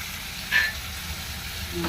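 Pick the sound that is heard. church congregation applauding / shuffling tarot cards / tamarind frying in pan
tamarind frying in pan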